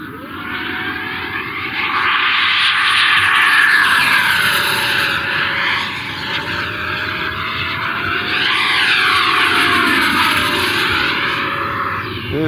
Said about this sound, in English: This jet is a beast,